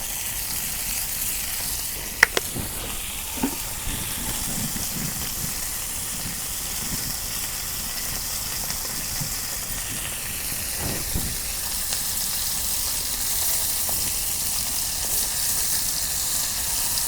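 Oil hisses and sizzles steadily in a pan over a village cooking fire, a continuous faint crackle with a few soft knocks and clinks.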